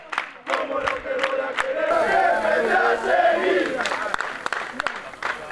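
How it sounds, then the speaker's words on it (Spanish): UD Salamanca supporters chant and cheer together at the Helmántico stadium during a farewell, a loud massed crowd chorus of voices, punctuated by sharp repeated bangs and claps while the singing swells in the middle. "Bengalas, cánticos, aplausos y el himno de Salamanca fueron solo algunas de las consignas que los seguidores proclamaron durante varios minutos"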